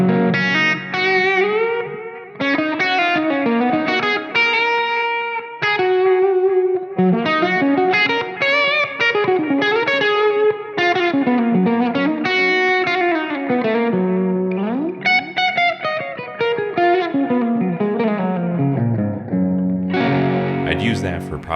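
Electric guitar played through a mid-gain Friedman or Marshall amp model with a little dirt on a Fractal FM3, a flowing lead line of sustained, lightly distorted notes and bends, loud and close with no talking.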